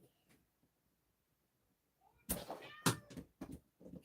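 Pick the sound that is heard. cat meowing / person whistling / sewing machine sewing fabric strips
cat meowing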